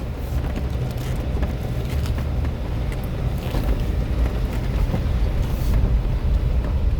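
Off-road vehicle climbing a rocky section of the Hale Creek trail, its tire working up the obstacle under a steady, loud engine and drivetrain rumble that stays even and close throughout.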